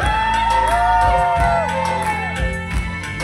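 A crowd at a Nepali live concert cheers, whoops and shouts loudly and continuously over sustained singing and music, the noise staying dense throughout.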